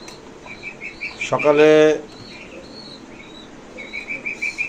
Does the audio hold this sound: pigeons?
yes